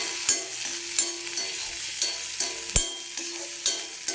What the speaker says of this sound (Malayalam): അടുത്തതായിട്ട് പഴം ഒന്ന് നെയ്യിനകത്ത് മൂപ്പിച്ചെടുക്കാം